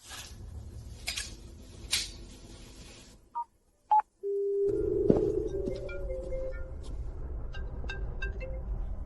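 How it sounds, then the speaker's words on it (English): A phone call goes unanswered: electronic tones and beeps, then a sustained ringing tone with a brief pause in it, all over a noisy background. "Damien, pick up the phone!"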